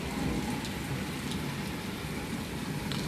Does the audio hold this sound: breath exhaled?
no